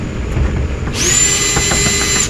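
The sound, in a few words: power drill with socket removing bolts under dashboard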